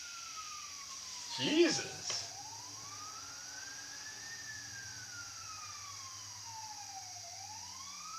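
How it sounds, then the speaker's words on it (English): A fire truck siren wails in a slow rising and falling sweep as a ladder truck passes, steady and moderately distant, with a brief spoken exclamation and clatter near the start. "There goes another ladder truck"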